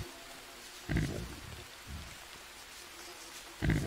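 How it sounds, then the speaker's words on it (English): Steady rain patters through a jungle survival setting in the game Green Hell, a constant soft hiss with a few louder, brief bursts rising over it. "It's so nice to play on a save where it's actually raining."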